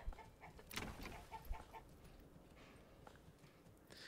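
Chickens clucking at a chicken coop in the medieval village game Manor Lords, faint and somewhat distant, with a few scattered clucks and a louder squawk early on over soft ambient background.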